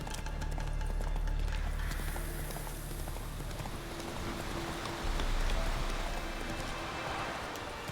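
Roach, the horse in The Witcher 3 on Nintendo Switch, galloping with rapid hoof clatter over a rain-like wash of game ambience, steady and close, with no talk.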